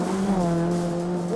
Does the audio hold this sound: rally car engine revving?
yes